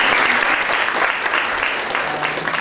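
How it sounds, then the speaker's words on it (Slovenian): A large audience at a professional meeting about a children's film gives loud, sustained applause for students, many hands clapping densely and evenly, with a few voices faintly underneath. "tako da še en aplavz za študente"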